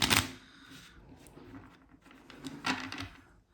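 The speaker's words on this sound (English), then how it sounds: "I'd ask them to shuffle or mix up the cards however they would like, cut the cards" A deck of playing cards being shuffled and cut by hand for a mentalism card trick, with brisk riffling bursts at the start and again near the end, soft papery rustling in between, close and fairly quiet.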